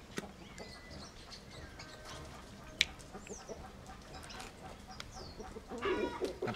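Chickens on a rural farm smallholding cluck intermittently at a moderate distance, with scattered short calls over a noisy outdoor background and a louder burst of clucking near the end.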